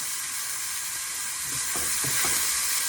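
Loud, steady sizzle of onion frying in hot garlic oil, a dense close crackling hiss with a few soft stirring knocks toward the end.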